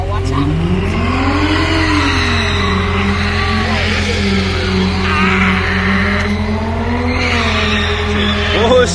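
A Corvette doing donuts holds a loud, continuous engine roar with rising and falling revs and long wavering tire squeals throughout, while people shout and talk over it nearby.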